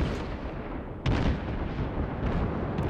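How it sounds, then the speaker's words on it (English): German cruiser guns fire in the naval game World of Warships, a heavy booming blast rising over a constant dense roar of battle noise, loud and close. "These guns sound so much more powerful than even a battleship gun."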